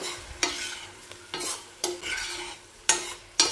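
Masala paste for chicken dalcha frying in a pan, with soft sizzling broken by several sharp scraping stirs of a spoon at irregular intervals, close and without talk.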